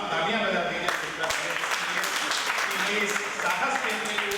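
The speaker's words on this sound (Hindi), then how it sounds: "आप लोग एक बार जोरदार तालियां बजा दीजिए" An audience at a large Hindi poetry gathering in Gola Gokarannath claps loudly and continuously, a broad wash of applause running throughout with voices talking over it.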